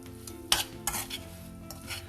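A spoon scrapes and stirs mashed potato and green peas in a sizzling pan for aloo sabji, with a steady frying hiss under a few close, clattering strokes and no talking.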